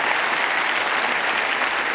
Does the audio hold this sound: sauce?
no